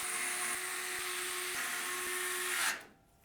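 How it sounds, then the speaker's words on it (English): An electric screwdriver whirs steadily for nearly three seconds while driving short radiator screws that fix an AIO cooler radiator into the top of an Antec C8 PC case, then stops abruptly. "we'll get it screwed into place using the short radiator screws."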